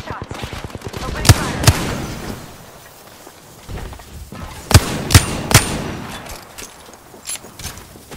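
Gunfire in the battle royale shooter Apex Legends, sharp close shots in small clusters separated by quieter gaps, with a few fainter shots and some clanging, and speech at times.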